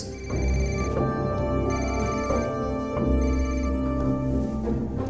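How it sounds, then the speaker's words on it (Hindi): A telephone rings continuously, its steady electronic tone repeating over a dense, humming background, in a scene from the 2025 film War 2. "इसरो में श्रीनिवास को फोन लगाओ।"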